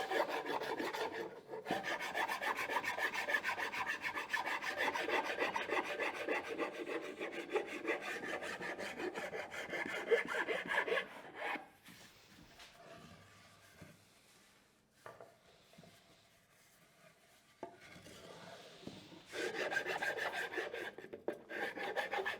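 A rasp files steadily across an ash Stratocaster guitar body in long rhythmic strokes, close and scratchy, pausing briefly before the rough rubbing resumes.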